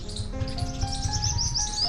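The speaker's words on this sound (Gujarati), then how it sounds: "એક એક ચકલી ઘરમાં એક એક પક્ષી રહે છે એના નાના નાના બચ્ચાઓ છે" Sparrows at a cluster of bird houses, with a busy mix of quick, high chirps and tweets from several birds over a low steady background.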